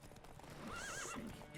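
Horses ridden at speed in the video game Witcher 3, one whinnying loudly over quick hoofbeats, close and clear, with a rider's voice calling out alongside.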